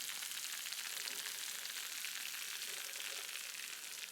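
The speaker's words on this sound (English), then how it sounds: "Just listen to that sizzle" Pasta sizzling and bubbling in a hot pan, a steady bright crackling hiss that holds evenly throughout at close range, with no voices.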